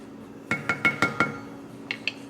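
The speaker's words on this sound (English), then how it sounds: "I'm gonna stir it again." A spoon stirring boiling rice in a cooking pot, knocking against the pot in five quick, close clinks, followed after a short pause by two fainter taps.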